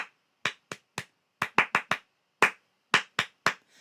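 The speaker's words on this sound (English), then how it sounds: "You can either tap your legs, tap a table, clap your hands." Hands clap out a repeating ostinato rhythm, about a dozen sharp, close claps in uneven groups with short gaps between them and no voices.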